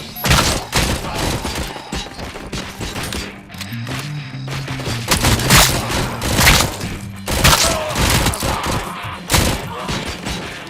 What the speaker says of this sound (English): Why are you throwing grenades in a movie thingy?